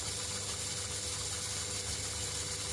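A Lister G stationary engine runs slowly, at roughly 350 RPM, producing a continuous, even mechanical chugging hum with rattling vibration. It stays steady from start to finish with no voices.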